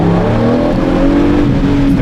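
A Lamborghini Murciélago LP-580 with a V12 engine and manual gearbox drones loudly from inside the cabin, a steady resonant engine note under light throttle, slowly rising and falling in pitch, with no talking.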